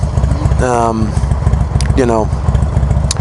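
A warmed-up motorcycle fitted with a Hammer Performance 1275 kit idles steadily throughout with a low, chugging putter, while someone talks over it in two short bursts.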